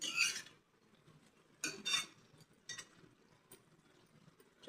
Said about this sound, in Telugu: చక్కగా కలిపేసుకొని ఫ్రై చేసేసుకుందాం మటన్ మొత్తం